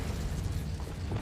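An Incendio fire spell cast in the Hogwarts Legacy video game: a dense, loud, roaring burst of flame with a deep rumbling low end, sustained steadily across the short moment without pause.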